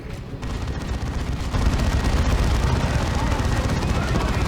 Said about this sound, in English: This will hurt, the plasma gun.